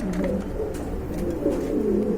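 Large running pigeons, a male and female pair, coo continuously in low, soft, rolling calls from close by, with no talk over them.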